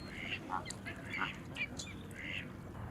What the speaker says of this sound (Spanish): Estos que están aquí son gansos canadienses.